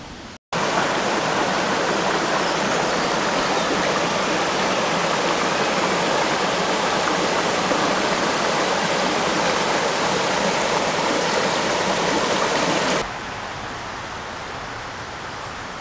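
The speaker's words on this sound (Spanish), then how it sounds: "por abajo pasa el agua" Water rushing beneath an old mill, a steady loud broadband roar up close that continues unbroken, then drops to a softer flow near the end.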